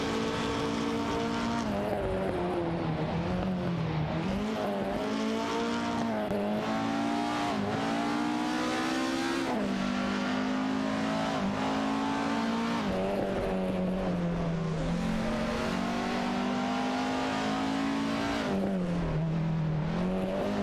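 Video game race cars, a Lamborghini Diablo GTR and a McLaren F1, roar continuously with high engine whine rising and falling through gear shifts, loud and steady throughout.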